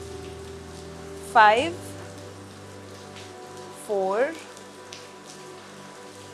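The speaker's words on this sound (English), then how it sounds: "enjoy the sweet sound of the rain." Steady rain patters as a soft, even wash throughout, faint beneath a calm voice counting down during a yoga workout.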